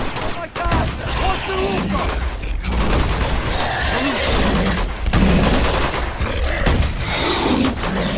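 Sustained gunfire in Uncharted 2: Among Thieves crackles in dense bursts throughout, with mechanical clatter mixed in and a voice exclaiming briefly over the shooting.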